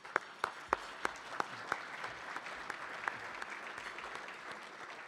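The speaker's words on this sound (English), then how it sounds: "let's give Tanya a big round of applause" A room of guests at a CFA society forecast dinner applauds, dense sustained clapping with a few sharp nearby claps standing out at the start, then settling into an even, moderately distant wash.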